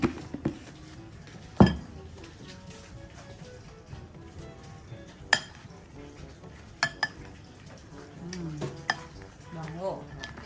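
Cucumber salad gets mixed in a bowl with a spoon, giving irregular clinks and scrapes against the dish and a couple of sharper knocks, close and fairly quiet, with no talking.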